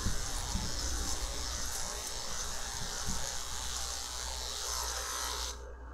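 Electric dog clippers with a one-inch guard trimming the chest coat of a standard poodle, a steady close buzzing hum running continuously and cutting off just before the end, with no talking.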